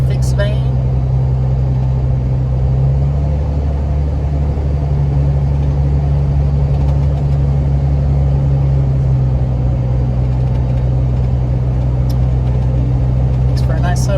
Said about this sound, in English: Hear that turbo spooling, that fixed vane.